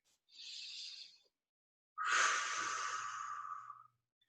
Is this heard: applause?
no